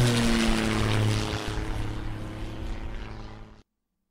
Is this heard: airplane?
yes